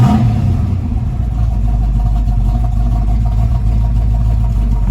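A 1968 Shelby GT350 Hertz Rent-A-Racer with a rebuilt motor and a more aggressive cam runs close by, a steady, loud, lumpy rumble with slight revving throughout.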